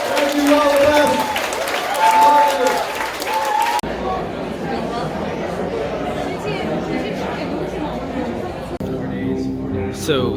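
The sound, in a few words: crowd at a presidential debate watch event in Detroit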